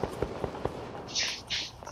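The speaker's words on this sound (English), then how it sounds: "Gunshots. I hear them." Several sharp gunshot-like bangs in quick succession at a moderate distance, followed by two longer hissing bursts, with no talking.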